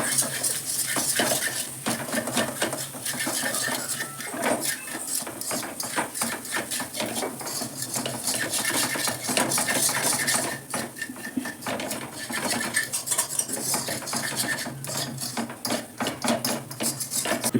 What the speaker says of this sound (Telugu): ఇప్పుడు తగినంత కారం పొడి, దీన్ని కూడా కొంచెం మిక్స్ చేసుకుంటే